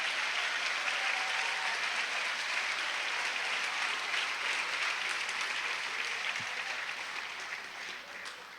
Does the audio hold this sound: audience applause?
yes